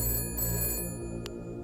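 A telephone rings inside the video game Shadow of Doubt, a steady electronic ring over a low humming game background with no talking.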